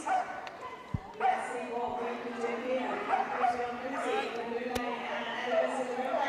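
Dogs yip and bark in short bursts amid a loud, echoing arena crowd at a Crufts flyball race, with a commentator talking over the steady din and a few sharp knocks.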